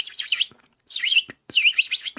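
Three bright bursts of bird chirping and tweeting, each about half a second long, separated by short silences, close and clear with no voices.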